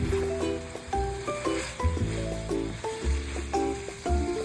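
Pork belly adobo (liempo) sizzles in its own oil while being stirred, a steady frying hiss sitting beneath prominent melodic background music, with no speech.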